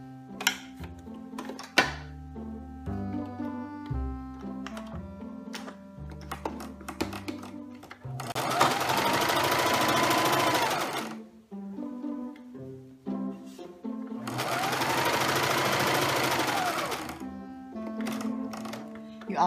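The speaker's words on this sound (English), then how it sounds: "We're gonna sew down one side, across, and back up the other side." A sewing machine stitches a pillowcase dress seam in two sustained, loud runs, separated and preceded by quieter clicks, taps and tonal sounds.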